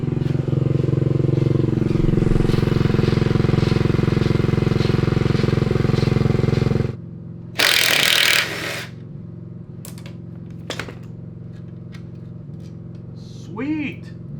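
A 1976 Honda Z50 mini bike fitted with a 125cc engine runs loud and steady for about seven seconds, then cuts out, leaving quiet with a brief burst of noise and scattered small knocks.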